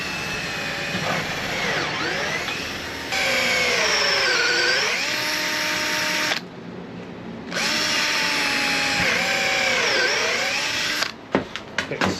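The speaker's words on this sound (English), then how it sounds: "Quick sand just to get these up and then we're done." A power sander runs on the wooden hull of a boat under restoration, a steady loud whine with shifting pitch that cuts out briefly midway, resumes, then stops with a few clunks.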